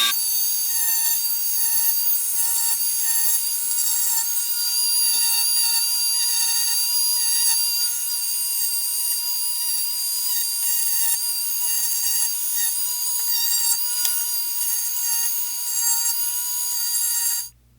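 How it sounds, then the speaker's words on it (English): A Dremel fitted with a 60 grit sanding band grinds down the back strap of a Glock 19 Gen 4 polymer frame, a loud, steady high-pitched whine that holds for about eighteen seconds before cutting off abruptly. "now we're going to be using that same 60 grit band on the Dremel to go ahead and remove the bulk of the material on this back"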